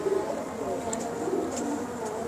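Pigeons cooing nearby in a loft, soft low repeated coos over a steady background murmur.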